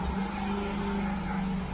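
A Chevrolet C5 Corvette engine idles steadily up close, a constant low rumble with an even hum, running alone without talk before shutdown.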